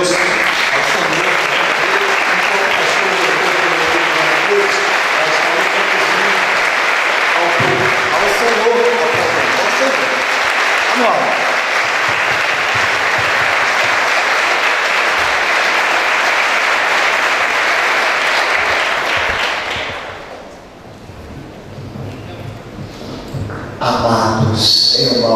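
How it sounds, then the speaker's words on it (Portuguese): Long, loud standing ovation from a church congregation, a dense wash of clapping that runs for about twenty seconds, then drops off abruptly as voices and room sounds take over. "Vamos ficar de pé e aplaudir ao Senhor pela vida deste homem de Deus."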